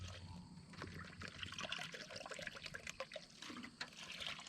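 Two cups of water pour into a dry bread dough mix at a camp oven, a steady close trickle and splash lasting several seconds with no talking.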